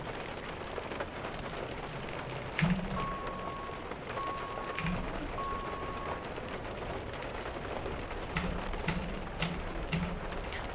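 Steady rain falls in a truck simulator game, heard from inside the truck cab as a constant broadband patter with scattered louder drops and a few soft ticking tones, with no talk.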